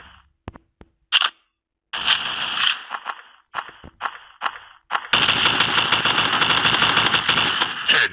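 Gunfire in a blocky mobile first-person shooter, a few isolated sharp shots and short bursts, then a long sustained rapid automatic volley, loud and close.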